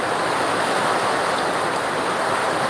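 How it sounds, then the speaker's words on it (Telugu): Heavy rain pours down steadily in Velichala village in Karimnagar district, a dense and continuous hiss close by with no pauses. "కరీంనగర్ డిస్టిక్ వెల్చాలలో వర్షం భారీ వర్షం కురుస్తుంది"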